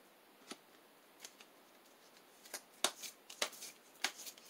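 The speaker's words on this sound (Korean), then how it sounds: "제가 타로 카드를 뽑아 보도록 하겠습니다." Tarot cards shuffled and drawn from the deck, heard as quiet, sparse flicks and snaps of card stock that grow busier toward the end, with no talking.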